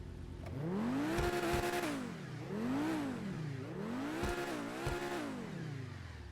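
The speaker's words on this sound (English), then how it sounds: "I just wanted to hear it rev." A Pegassi Torero XO supercar in GTA 5 Online revs repeatedly in the garage, its engine rising and falling in several loud, smooth sweeps with a few sharp blips, heard alone.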